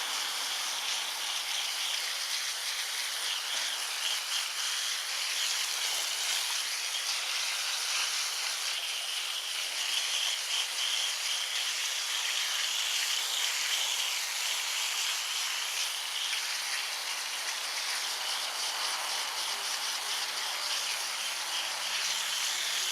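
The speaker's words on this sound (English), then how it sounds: "We just give them all a nice little rinse." Water sprays steadily as freshly dug dahlia tubers are rinsed outdoors, making a constant even hiss that runs the whole time with no voices.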